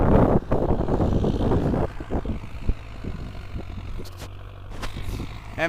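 An MTZ-82 tractor fitted with a turbocharger runs with a steady, low, droning engine note that continues close by throughout, following a brief louder rumble at the start.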